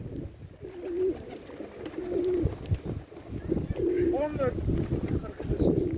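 Pigeons coo repeatedly nearby in low throaty phrases, with scattered rustling and occasional voices around them.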